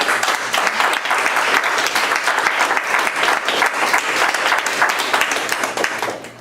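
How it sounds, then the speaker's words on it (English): A seminar audience on India's cultural history applauds six presenters with loud, sustained clapping from a full room that fades out at the end. "Will you please applaud the 6 presenters"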